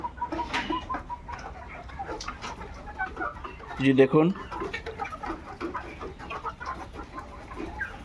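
White layer pullet hens on a poultry farm cluck and chatter in a dense flock, with one louder squawk mid-way; someone talks over the birds.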